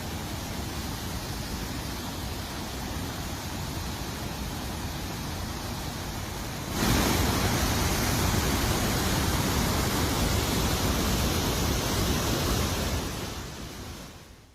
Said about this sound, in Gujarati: આ જ વિસ્તારમાં આવેલ બાલાપાવા ધોધ પણ ધમધમી રહ્યો છે